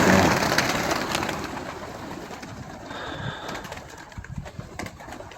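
Stork-breed pigeons coo softly while feeding, low repeated calls under a steady bed of background noise, with occasional faint scratching and pecking sounds nearby.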